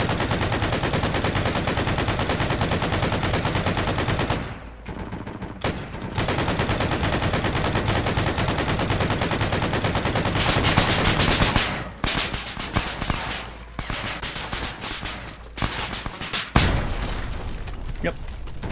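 Heavy automatic gunfire from a remote-operated vehicle gun in the military game Arma on the Altis map, sustained loud bursts with brief pauses, a voice talking over parts of it.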